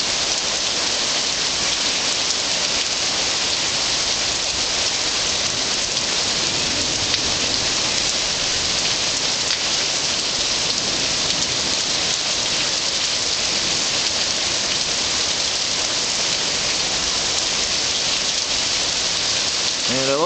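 Heavy rain pours steadily during a thunderstorm, a dense, loud, unbroken hiss that fills the whole stretch with no pauses.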